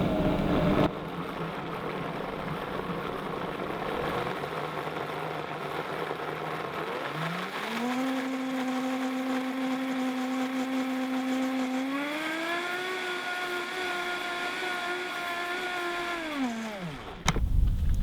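An electric blender whizzing vegan gluten-free waffle batter, its motor spinning up with a rising whine, holding a steady hum, climbing higher partway through, then cutting off abruptly, loud and close with no talking.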